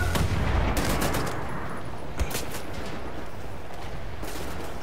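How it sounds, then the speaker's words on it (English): Loud gunfire rattles through a firefight in the shooter game Wolfenstein: The New Order, with several sharp shots and bursts clustered near the start and again later over a steady rumble of battle noise. "Somebody's still shooting at me."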